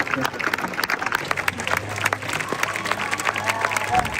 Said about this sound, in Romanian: Cele mai lungi aplauze